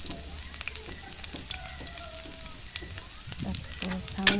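Chopped garlic sizzles steadily in a hot pan while a kangkong and tinapa dish is cooked, with light clinks of stirring and occasional sharper crackles near the end.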